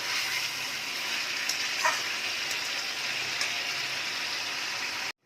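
Mutton curry sizzling over a low gas flame in a pan, a steady close hiss of frying with a few faint scrapes as it is stirred, then cutting off abruptly.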